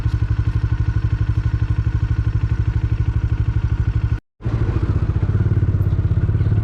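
A motorcycle engine thumps along in a fast, steady rhythm close by near Gandikota Fort, cutting out for a brief moment before resuming.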